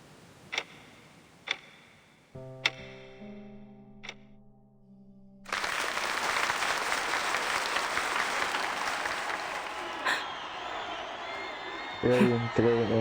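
In the video game Reverse: 1999, a few sharp ticks and tones, then a burst of crowd applause and cheering that carries on steadily to the end, with musical notes near the close.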